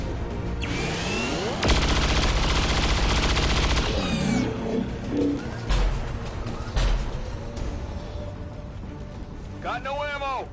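Gunfire and weapon effects in the XCOM 2 video game, a dense burst of rapid shots followed by scattered impacts and whooshing effects, mixed with game sounds and a voice talking over it.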